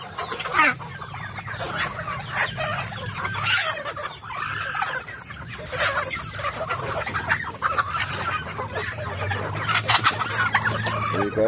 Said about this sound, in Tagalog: pabo, manok.